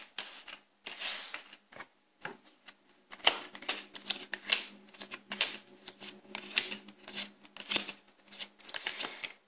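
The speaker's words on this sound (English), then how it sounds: "I'm just going to pull out a few more cards." Tarot cards are shuffled and pulled in quick, crisp flurries of riffling and snapping, close and fairly quiet, with short pauses between bursts and no speech.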